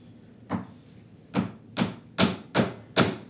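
A hammer strikes a chisel chopping out dovetails in a wooden box, six sharp, close blows that start spaced out and then come in a quicker, even rhythm with no talking.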